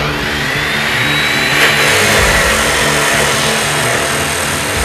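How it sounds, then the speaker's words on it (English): An abrasive chop saw with a 14-inch, 1/8-inch-wide blade cuts forged steel spikes to length, a loud, steady motor whine and grinding roar that runs without a break from start to finish. "I bring them over to the chop saw and cut them to length"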